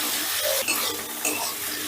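Onion and large capsicum fry in a hot pan for chilli paneer, a brief steady sizzle broken by quick stirring scrapes and light clinks of the spatula.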